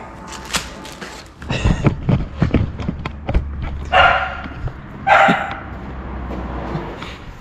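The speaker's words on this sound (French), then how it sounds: "je sais pas sur quoi il aboie en fait quand il est dans le tas de blé" Dog barking in a pile of wheat, several sharp barks and yips in quick bursts with rustling and thumps around them, fairly close, no talk.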